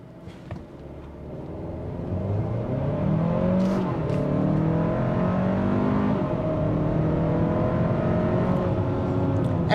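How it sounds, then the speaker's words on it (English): A 2024 Hyundai Santa Fe Calligraphy in sport mode, brake-torqued and then launched from 0 to 60 on level ground, its engine swelling into a loud, steady rising drone with a shift or two along the way, heard from inside the cabin. "But let's go ahead and see what we can get 0 to 60 wise."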